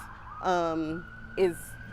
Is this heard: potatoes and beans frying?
no